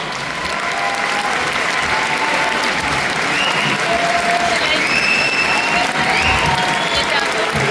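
An audience at a presentation event applauds warmly, with dense sustained clapping and some cheering for several seconds, and faint voices and whistle-like tones rising above the crowd.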